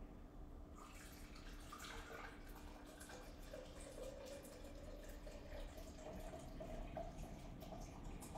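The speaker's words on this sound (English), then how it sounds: "We're going to pour hot water into the beaker." Hot water poured into a French press glass beaker, a faint, steady trickle and splash of liquid that continues throughout in a quiet room.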